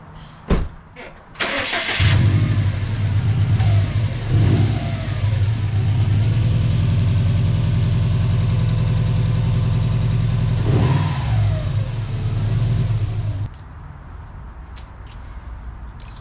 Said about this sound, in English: So we'll go ahead and drive it off real quick.